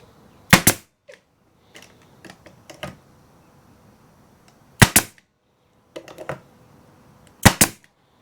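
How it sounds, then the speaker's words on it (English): Nails driven into wooden boards while building a solar wax melter: sharp, loud cracking blows, some doubled in quick pairs, with lighter taps in between, separated by quiet gaps. "So now we're gonna nail along our line"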